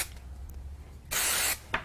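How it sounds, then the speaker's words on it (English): A can of spray glue hisses onto small card pieces in one loud burst of about half a second, then a brief shorter spritz, over a quiet room. "so I'm just going to use some spray glue"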